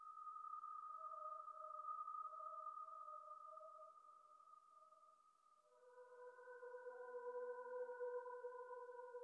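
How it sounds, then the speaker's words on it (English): A mellotron holds faint, sustained high chord notes, one soft layered chord gliding into another, quiet and alone. "And then next I use this mellotron that sounds like this,"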